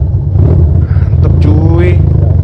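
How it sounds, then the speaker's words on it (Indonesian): A Honda CB200 motorcycle engine rumbles loudly and close by with a steady low throb and a short rising rev, while someone speaks over it. "Mau tahu suara nih motor? Nih dengerin."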